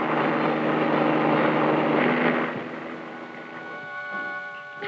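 A helicopter used by traffic reporters in the late 1950s drones loudly with steady rotor and engine noise, then the sound thins and eases back while the engine hum carries on alone.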